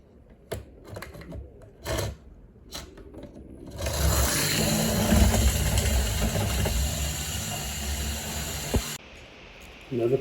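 A pair of Jouef clockwork model train engines run on HO/OO track, a sustained mechanical whirring and scraping lasting several seconds between scattered clicks and knocks.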